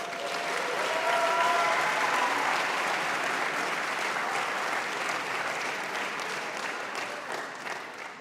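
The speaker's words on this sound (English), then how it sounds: "I might have gotten the biggest applause of the night" Sustained audience applause at a Miami Beach State of the City address, a dense steady roar of clapping from a large crowd that holds strong for several seconds and then gradually tapers.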